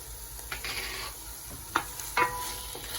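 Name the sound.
stirring chicken tikka masala ingredients in a sizzling pan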